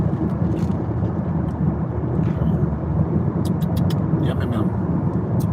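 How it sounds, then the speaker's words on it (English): Continuous low road rumble from inside a moving car, steady and fairly loud, with a few faint clicks and bumps over it. "We are driving"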